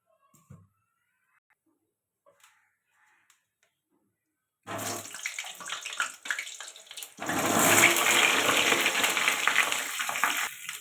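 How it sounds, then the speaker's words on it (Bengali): Potatoes frying in hot oil for a chicken dish in a home kitchen, a loud steady sizzle that starts abruptly after near silence and swells to a dense, continuous crackle. "আলুটা ভেজে নেব চিকেনের জন্য"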